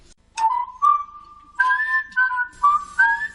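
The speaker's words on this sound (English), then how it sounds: "Yeah, I'm whistling at you." A person whistles a clear melody close by, a short rising note followed by longer sustained and gliding tones in several phrases, with no talking.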